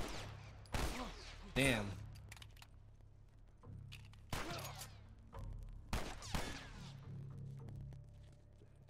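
Sporadic gunfire in The Last of Us Remastered, several sharp shots and short bursts spaced across the scene amid low rumbling ambience, with a man muttering briefly between them.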